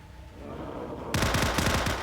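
Quiet game background gives way to a sudden rapid burst of gunfire, sharp repeated shots rattling in quick succession until the end.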